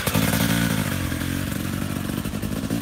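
A two-stroke motocross bike during motocross training, its engine a loud, steady, close buzz that holds without a break and sits alone with no voices.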